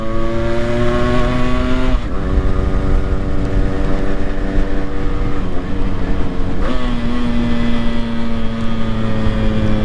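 A motorcycle engine revs hard and loud during downshifts with auto-blipping, its pitch dropping in sharp steps with quick throttle blips between shifts, close by and continuous.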